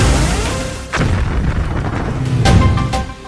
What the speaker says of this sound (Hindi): ऐसे धमाके किसी भी शिपिंग कंपनी पर फुल स्टॉप लगा सकते हैं।